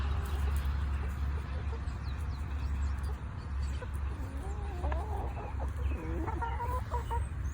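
Young pullets cluck and squawk continuously at close range outdoors, a busy overlapping chatter of short calls over low rumbling background noise, with no clear talk over it.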